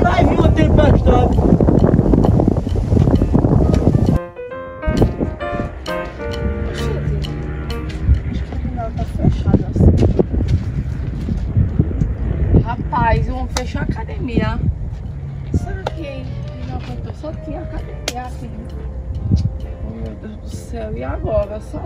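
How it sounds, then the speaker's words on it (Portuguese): Strong wind blowing at sea before a storm, roaring against the microphone from the start, then someone talks over lapping water and steady gusts. "O vento hoje tá capitão, meu."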